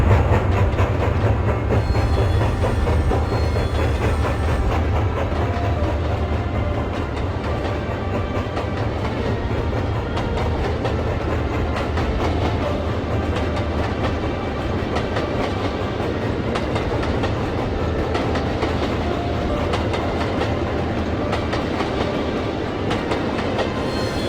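A train rolls steadily along the rails on the Clinchfield Highland Valley line, with continuous rumbling and clickety-clack of railcar wheels at a close, even level and no voices throughout.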